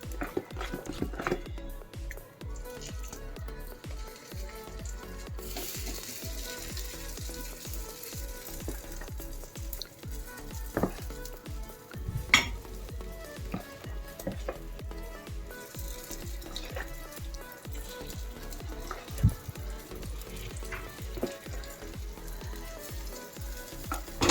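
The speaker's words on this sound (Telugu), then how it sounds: "కొద్దిగా ఆయిల్ వేసేసి ఇప్పుడు వేగిన తర్వాత తీసేసుకుందాం" Pongnalu, small fritters of dosa batter, frying in oil in a pan, with a continuous soft sizzle and frequent clicks and taps of utensils over a low background hum.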